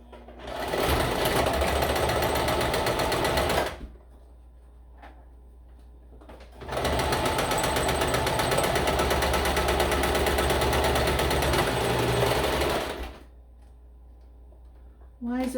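Sewing machine stitching a blue comforter in two long, steady, loud runs with a whirring mechanical clatter, separated by a short pause with light handling noises.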